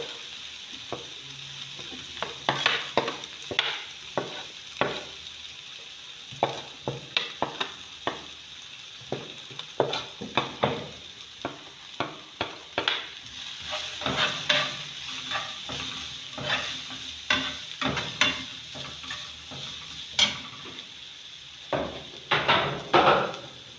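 Spices fry with ginger in a pan for commercial meat pie filling, a quiet continuous sizzle punctuated by frequent scraping stirs and spoon knocks against the pan, no voices present.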